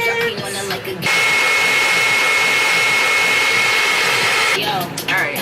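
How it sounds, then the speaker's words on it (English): A hair dryer fitted with a diffuser switches on and blows with a steady, loud, close whirring hiss while drying curly hair after a wash-and-go, with a faint voice briefly before and after. "I'm gonna go back in with my diffuser for a little bit."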